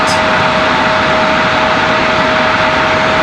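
A jet airliner departs Raleigh-Durham airport at night: a loud, steady engine roar with a constant high whine runs throughout, close and unbroken, with no voices.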